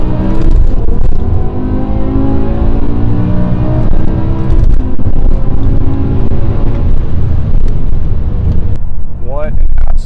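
A 2007 BMW E63 M6 with its V10 engine pulls hard, a loud, continuous rising engine roar with clear harmonic sweeps filling the whole stretch, heard from inside the car before a brief voice at the end.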